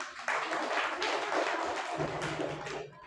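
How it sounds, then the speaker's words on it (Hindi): Children clapping together during a classroom quiz, a burst of fairly loud, dense claps that starts abruptly and runs steadily to the end, with a low voice briefly audible underneath. "तो तालियां बजाएंगे सभी लोग।"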